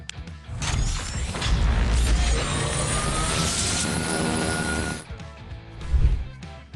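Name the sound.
toy patrol cruiser sound effects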